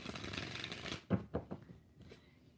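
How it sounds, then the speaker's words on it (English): A deck of tarot cards is riffled in a close, dense burst, then tapped square in a few distinct knocks before quieting. "And 1 more shuffle."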